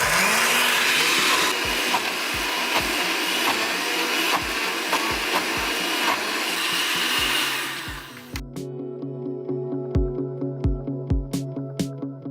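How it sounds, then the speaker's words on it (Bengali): A blender whirs loudly and steadily while blending chickpeas into hummus for a falafel and hummus meal, then winds down into a series of short pulsing bursts and clunks near the end. "এখন আমি এটাকে ব্লেন্ড করব।"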